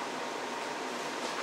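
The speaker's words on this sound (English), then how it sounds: "Excuse the background noise, it's my air conditioner." An air conditioner runs on a very hot day, giving a steady, even hiss of rushing air with no breaks or changes, fairly faint and alone without any talk.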